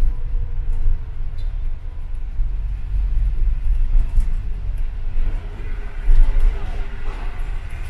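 A train rumbles across the rail bridge at Cannon Street station in London, overhead as a London bus passes beneath on the riverside, a steady low roar and rattle with a louder surge near the end.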